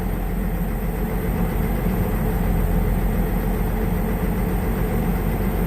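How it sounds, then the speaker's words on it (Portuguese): A Scania truck's diesel engine idles steadily and close by, a continuous low rumble with an even throb running through the whole stretch and no voices over it. "Olha que barulho bonito o motorzão Scania, né?"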